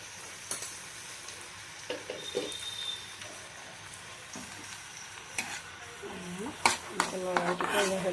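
Small fish and white tenga mora leaves are stirred in a hot pan with turmeric and salt, giving a steady low sizzle with scattered spatula scrapes and a burst of metallic clanks near the end.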